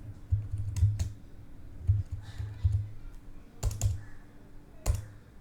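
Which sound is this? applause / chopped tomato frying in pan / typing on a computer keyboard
typing on a computer keyboard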